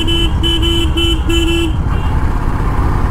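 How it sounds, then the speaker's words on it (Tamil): A vehicle horn on a hill road ride gives four short, loud toots in a quick rhythm, then falls silent, leaving engine and road rumble underneath. "நல்லா ஹார்ன் அடிச்சுட்டே தான் போகணும்."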